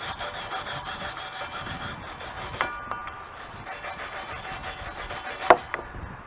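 Rust is scrubbed off a steel barbell in steady, continuous rasping strokes, close and fairly loud, broken by a couple of light knocks and one sharper clack near the end.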